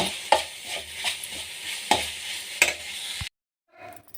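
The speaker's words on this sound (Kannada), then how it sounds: "ಹಾಕಿ 1 ನಿಮಿಷ ಫ್ರೈ ಮಾಡಿದರೆ ಕಾಯಿ ಚಿತ್ರಾನ್ನಕ್ಕೆ ಗೊಜ್ಜು ರೆಡಿಯಾಗುತ್ತದೆ" Coconut gojju paste with salt frying in a pan, a close, steady sizzle punctuated by several sharp spoon scrapes and taps, cutting off abruptly into near silence before a faint rustle.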